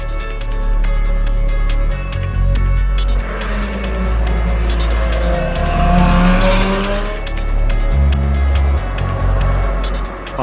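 A 2018 McLaren supercar driving on a race track, a loud sustained engine roar with shifting pitch as it accelerates and brakes, tires squealing through corners, close and continuous with no talking.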